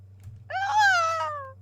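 A single cat meows once, a clear drawn-out call rising then slowly falling, close and distinct over a low steady hum.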